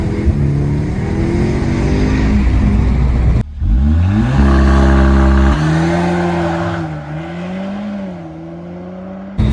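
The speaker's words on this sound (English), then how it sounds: "mash the brake with your left foot, and then right, launch control active, and then just wave it off" A 2022 Audi S3 8Y saloon launches hard with launch control: a loud engine held at high revs, then a sharp shift and a run of rising gear changes as the car accelerates, fading slightly at the end.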